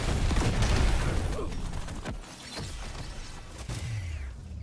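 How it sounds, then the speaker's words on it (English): Explosions and bursts of gunfire fill a dense, chaotic battle during a Hazard 5 Magma Core run in Deep Rock Galactic: Survivor, with loud rumbling booms strongest at the start and repeated blasts continuing throughout. "Oh my god, there are explosions."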